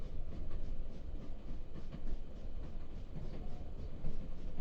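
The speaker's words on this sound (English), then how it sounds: "The beautiful repetition of the train lulls you into a deep comfort." Steady low rumble of a moving train, the Polar Express, with a soft, continuous rattle of the cars rolling along the rails at moderate volume and no voices.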